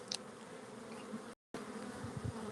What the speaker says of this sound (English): There's a bee on the camera.